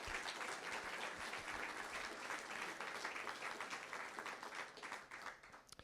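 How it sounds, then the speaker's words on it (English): Sustained, dense audience applause fills a banquet hall at a Wall of Pride induction ceremony dinner, honoring the inductees; steady clapping continues for the full length without a break. "if we could get one more round of applause for all of our inductees"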